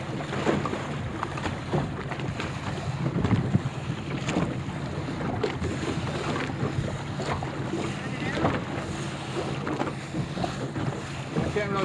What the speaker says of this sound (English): the jib's luffing now